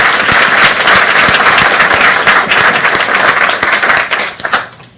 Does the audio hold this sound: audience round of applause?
yes